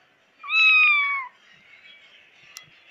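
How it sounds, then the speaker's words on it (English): A new kitten gives one clear, drawn-out meow near the listener, followed by quiet room noise and a faint tap. "A new kitten."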